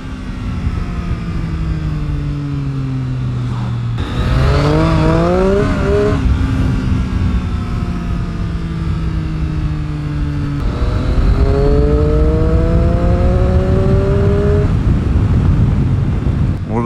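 A 2018 Triumph Street Triple R motorcycle engine winds up through a corner, its pitch climbing in two long rising pulls with a brief drop between, loud and close with wind noise and no talk.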